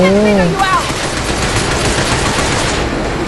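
Rapid machine-gun fire in the shooter video game Binary Domain, a loud continuous burst of close shots. A brief excited voice is heard at the start.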